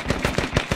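Heavy machine gun fire in the tactical shooter Squad during a petrol station defence, a rapid burst of about six heavy, booming shots at an even rhythm, close and loud.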